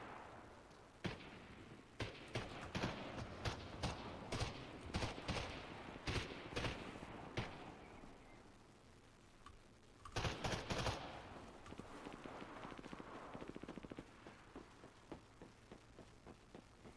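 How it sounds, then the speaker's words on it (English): Gunfire echoes inside buildings in a first-person shooter video game, with rapid bursts of sharp shots in clusters, a pause, then another dense volley followed by scattered single shots, loud and reverberant. "I like how the gunshots sound inside the buildings."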